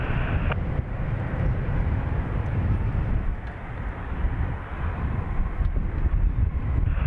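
An Antonov An-124 heavy-lift cargo jet at Dublin Airport, its engines giving a sustained deep rumbling roar buffeted by wind noise, with no talking.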